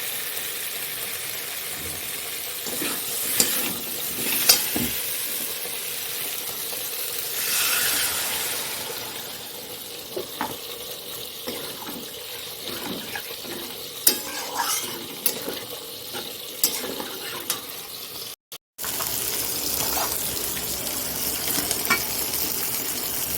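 Steady crackling sizzle of fish frying in oil in a pan, with occasional scrapes and clinks of a utensil stirring throughout, close and fairly loud.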